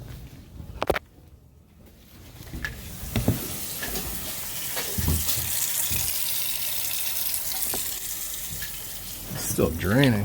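Water drains and runs in a kitchen sink on a second floor whose drain backs up into the kitchen below, a continuous rushing hiss with a few bumps and clatters near the start.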